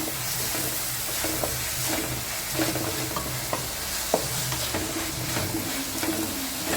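Sliced onion and chopped tomato sautéing in a pan, a continuous close sizzle broken by repeated stirring scrapes and taps from a spoon, no talk.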